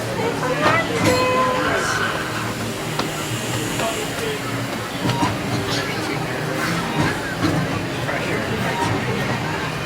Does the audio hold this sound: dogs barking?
no